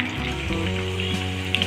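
Hariyali chicken kabab frying in oil, a short steady sizzle layered over a low, even background hum.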